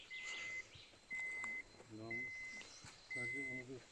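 A radiation detector at Chernobyl beeps at a steady rhythm, four evenly spaced electronic tones, while a person talks quietly between and under them.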